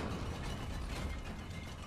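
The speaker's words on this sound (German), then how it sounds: "Nee, die Tür geht auf." A door swings open in the video game Far Cry New Dawn with a steady mechanical, ratchet-like clatter over a dense, noisy backdrop of game sound.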